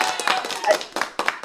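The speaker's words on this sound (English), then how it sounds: "let's give a round of applause real quick" Short round of applause from a small group, scattered hand claps in quick uneven bursts, moderately near and fairly faint, with some voices mixed in.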